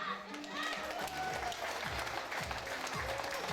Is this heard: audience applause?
yes